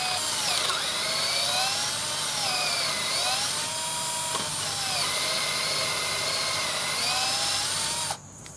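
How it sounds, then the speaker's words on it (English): Power drill boring half-inch pilot holes into gate poles for a double gate install, a steady, loud whirring whine with shifting pitch that runs almost continuously for about eight seconds, then stops abruptly. "Then we're going to pilot drill 1/2 inch where I marked those."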